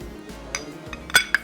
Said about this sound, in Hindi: फालतू बर्तन करते हैं आउट।